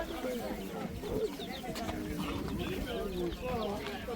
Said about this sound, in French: Ils vendent des poussins à côté là. Des petits poussins.